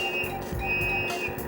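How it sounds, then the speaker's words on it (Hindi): A police whistle shrills in a dubbed Hindi action film chase, a steady high tone held across the moment over a low rumbling background, sounding fairly close. "ये क्या सीटी की आवाज? लगता है पुलिस ढूंढ रही है।"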